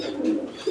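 Pigeons coo with a soft, low throaty burble that rises and falls through the short moment, close by and moderately loud, no voices over it.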